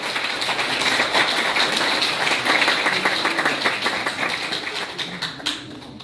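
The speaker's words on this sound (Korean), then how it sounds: "큰 박수로 환영해 주시기 바랍니다." Warm applause greets a speaker at a book launch event, a dense crowd of clapping hands at steady volume that gradually thins and fades over about six seconds.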